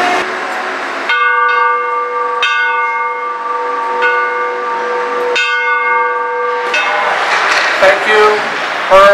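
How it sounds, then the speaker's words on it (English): A memorial bell rung at a sports game, sounding loud and close as several struck tolls with long ringing sustained tones, each new strike layering over the fading one, with crowd noise swelling near the end. "We're gonna have this beautiful bell here in her honor."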